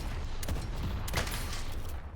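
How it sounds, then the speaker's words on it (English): Abrams fires his shotgun main attack in the video game Deadlock, with several dense, noisy blasts in quick succession over a continuous loud rumble of game action. "Abrams has sort of a shotgun main attack"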